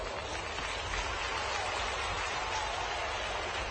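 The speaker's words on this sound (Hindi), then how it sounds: "इस पे जोर से ताली बजाओ बहनों।" A crowd at a political rally in Khategaon claps continuously, a dense, even wash of applause holding at the same level throughout with no speech over it.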